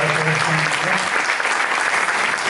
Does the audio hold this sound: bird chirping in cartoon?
no